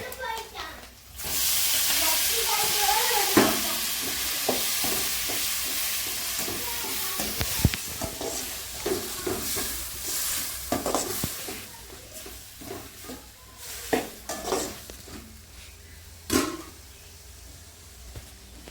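Okra and tomato fry in a pan, a loud steady sizzle with repeated stirring scrapes and clacks of a spoon, fading somewhat later on while a person talks intermittently.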